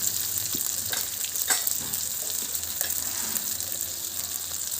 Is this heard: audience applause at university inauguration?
no